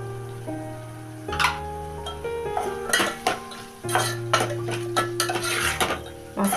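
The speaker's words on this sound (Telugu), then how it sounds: "మసాలా వేగుతున్నప్పుడు" Masala for a chicken curry is stirred in a metal pan, a spoon clanking and scraping in repeated close bursts over a steady background hum.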